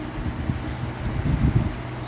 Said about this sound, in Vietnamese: Đang tăng tốc ra khơi bạn.